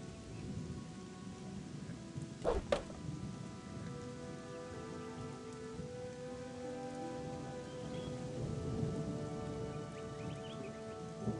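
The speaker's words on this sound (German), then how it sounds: "Scheiß Regen!" Rain falls in Gothic II's Archolos mod, a steady hiss with a sharp crack early on and soft sustained musical tones lingering beneath the downpour.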